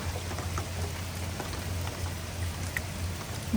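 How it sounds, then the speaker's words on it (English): Steady rain patters on trees at a campsite, a continuous close hiss with scattered individual drops tapping through it. "It's raining pretty good"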